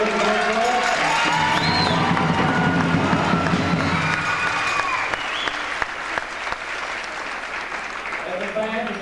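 A large audience at a 1995 Hampshire High School football banquet gives loud, sustained applause with scattered cheers and shouts, a dense wall of clapping that runs throughout, with a voice talking over it at the start and end.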